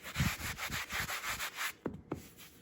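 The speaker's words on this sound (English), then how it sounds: "I can fix that just by going through with a little bit of sandpaper or a sanding sponge" A sanding sponge rubs back and forth over chalk-painted upholstery fabric, giving a series of quick, close, rhythmic scratchy strokes followed by a couple of separate, sharper passes.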